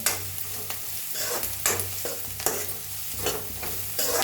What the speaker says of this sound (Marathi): लसूण हिरवी मिरची खोबरं आपण वाटून घेतलं होतं ते भाजून घेऊया छान असं तेलात त्याला बी भाजून घेऊया कांद्याबरोबर